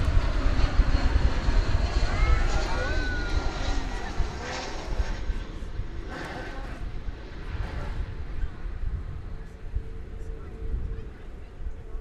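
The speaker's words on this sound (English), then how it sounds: "I believe that's a 777." A Boeing 777 airliner at DFW Airport, a loud jet engine roar and rumble that fades gradually over several seconds, with someone talking over it.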